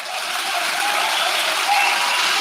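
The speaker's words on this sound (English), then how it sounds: "Why are you all applauding about that?" Audience applause at a debate between Sam Harris and Jordan Peterson, a dense, even wash of clapping from a large crowd that holds steady throughout.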